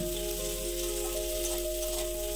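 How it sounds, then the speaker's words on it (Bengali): Two medium onions, finely chopped, fry in hot mustard oil in a wok, giving a close, steady sizzle that stays level and unbroken for the whole short stretch, with a low hum underneath and nobody talking. "কড়াইতে আরেকটু সর্ষের তেল দিয়ে ভালো করে গরম করে এর মধ্যে দুটো মাঝারি সাইজের পেঁয়াজ কুচি দিয়ে দিলাম"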